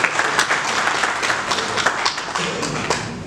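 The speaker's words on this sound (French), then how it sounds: "Et vous pouvez les applaudir tous." Audience applause at a meeting of a national association of geology and mining engineers, a scattered round of clapping with individual claps standing out, moderately close and without talk.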